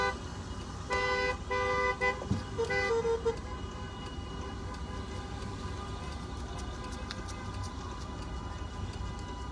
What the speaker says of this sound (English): Oh, there's lots of traffic at the airport today.